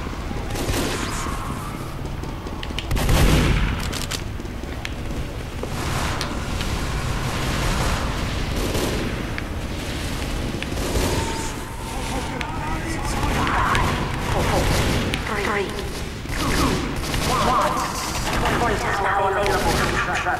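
Gunfire in the Team Fortress 2 video game, a steady barrage of repeated shots running the whole stretch with one heavier blast early on, loud and busy, with game noise layered throughout.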